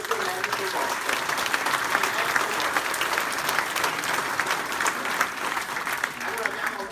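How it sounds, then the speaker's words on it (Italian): Sustained applause from an audience at a Fratelli d'Italia party gathering: dense, steady clapping from a large crowd that fills the full seven seconds at an even, moderate level. "Fatevi un applauso perché questo è merito vostro."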